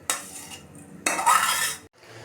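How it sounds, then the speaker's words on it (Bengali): Freshly fried dry lachha vermicelli poured out of a pan to cool: two close, loud rustling, scraping bursts of about a second each, separated by a short pause, with no talk. "ভাজা হয়ে গিয়েছে এখন এটা ঢেলে রাখা হচ্ছে"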